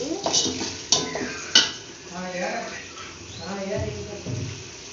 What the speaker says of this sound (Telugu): లైట్గా ఫ్రై అవ్వాలి